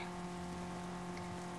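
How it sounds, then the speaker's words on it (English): Rain falls in the video game Roville as a steady, soft hiss that runs under a low, constant hum, with no talking. "and it's raining"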